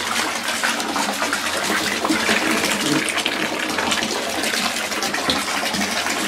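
Water splashing and pouring during a bath, a continuous close rushing wash with voices talking over it.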